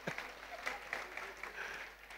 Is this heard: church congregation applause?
yes